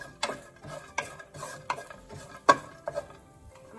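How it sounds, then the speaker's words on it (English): Almonds being roasted in melted ghee in a pan and stirred, with quiet intermittent scraping strokes against the pan and a faint sizzle underneath. "I'm going to roast the almond to a golden brown color."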